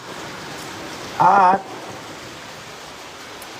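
Heavy rain pours down in a steady, broadband hiss, close and unbroken, while a voice cuts in briefly partway through.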